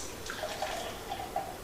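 A thick purple fruit smoothie pours from a blender, a soft, continuous liquid gurgle with small glugs and splashes, close and moderately quiet.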